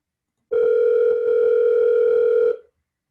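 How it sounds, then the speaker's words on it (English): A telephone dial tone sounds steadily for about two seconds at the start of a phone call, loud and clean against silence, then cuts off. "then we're going to hear a phone call"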